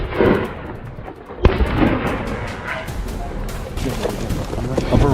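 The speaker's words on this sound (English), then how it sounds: "A barrage of gunfire followed, sending the rest of the herd into a panic" Gunshots during a wild boar hunt ring out outdoors as a series of sharp, loud cracks, with one strong shot near the middle and further irregular reports scattered through the rest amid rustling background noise.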